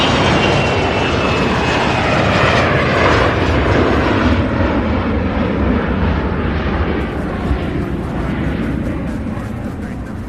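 A Bombardier Global 5000 business jet at Louisville International Airport gives a loud, sustained roar that fills the air and holds nearly level, easing only slightly toward the end.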